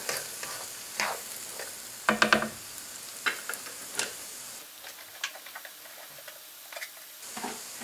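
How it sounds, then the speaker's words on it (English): Diced medium-to-large yellow onion sautés in a pan for jambalaya, a soft sizzle under repeated spoon scrapes and taps against the pan, some sharper clacks clustered near the start. "we'll give this a second to start sauteing"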